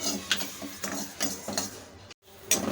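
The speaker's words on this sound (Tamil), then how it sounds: "இப்போ இதையும் வந்து நம்ம நல்லா வறுத்துக்கலாம்" Rice dry-roasting in a kadai while a metal spatula scrapes and stirs it, giving a run of close, uneven clinks and scrapes in a loose rhythm with a brief pause near the end.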